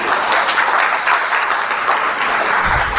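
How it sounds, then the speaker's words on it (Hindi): An indoor audience at a teachers' training programme at a high school claps loudly and steadily for three seconds, a dense, continuous wash of applause with no voices over it. "बस समझ में आ गया तो ताली बजाएंगे"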